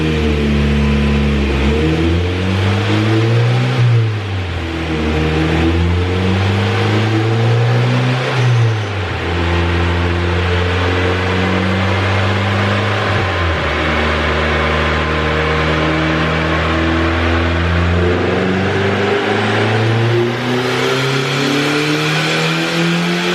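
A turbocharged Honda B18 engine running on 87 octane revs hard on a dyno, loud and continuous, its pitch climbing and falling through repeated rev sweeps with a steady droning roar throughout.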